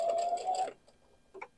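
A sewing machine backstitches a quilt border in one brief whirring burst that stops abruptly, followed by faint clicks and handling noise.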